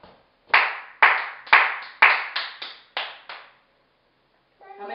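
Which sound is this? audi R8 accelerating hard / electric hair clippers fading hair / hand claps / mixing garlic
hand claps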